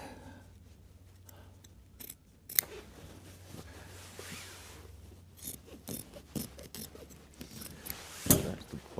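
Scissors cut through upholstery fabric nearby, quiet crisp snips and rustling scattered in short bursts, with a few sharper clicks.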